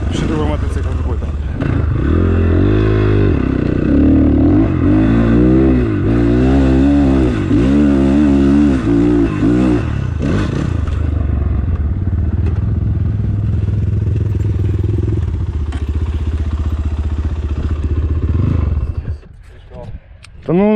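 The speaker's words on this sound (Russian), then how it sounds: "непривычно на чужом мотоцикле ездить вообще очень сильно" An enduro motorcycle engine revs and surges loudly and continuously while being ridden on a hard enduro course at Belaya Balka near Dnipro, then cuts off abruptly near the end.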